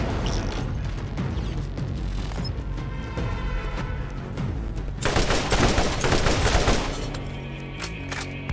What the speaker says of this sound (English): three is the close range machine gun